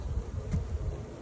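Large honey bees from a cold-climate breed hum in a steady, close, continuous drone, the buzzing swelling briefly midway with no voices present.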